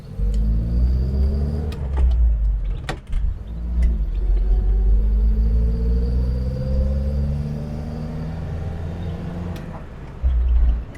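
A 1960 Standard Vanguard Vignale being driven, its engine giving a low rumbling drone with rising tones as it pulls through the gears, close and steady, with a few clicks and knocks from inside the cabin.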